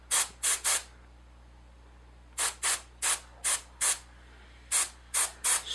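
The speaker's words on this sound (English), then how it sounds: "spray down through the mesh" Short bursts of black airbrush paint spray hiss through mesh onto a fly-tying popper head in three clusters of two to four puffs each, close and crisp against a quiet background.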